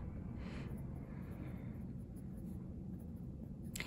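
Pen scratching in a Hobonichi Cousin planner, a soft, continuous rustle of writing on paper with brief strokes, heard close up in a quiet room.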